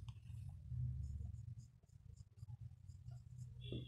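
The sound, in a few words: pen writing on paper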